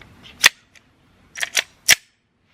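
A .357 SIG handgun is fired over a chronograph at an outdoor range, producing a few sharp, sudden cracks spaced unevenly, with quiet gaps between the reports.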